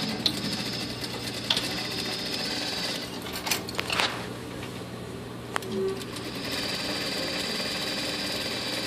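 A sewing machine stitches pants fabric with a steady mechanical rattling hum, close and continuous, broken by a few clicks and thumps partway through.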